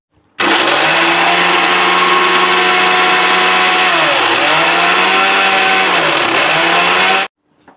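A kitchen mixer grinder whirs loudly and steadily for about seven seconds, pulverising roasted spices into Brahmin-style sambar powder, its motor pitch dipping briefly a couple of times as the load shifts, then stopping abruptly.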